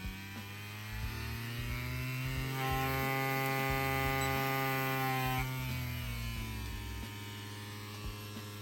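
A Stigma Rotary Force XL rotary tattoo machine runs with a steady electric whine, its pitch rising and then settling as the voltage is changed, followed by a faint click near the end.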